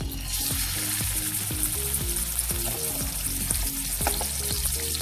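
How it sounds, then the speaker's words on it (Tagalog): Pork liver frying in a pan, a dense, continuous sizzle and crackle with scattered pops and stirring scrapes, loud and close. "Pero bago tayo mag-isa, ika-fry muna natin yung pork liver."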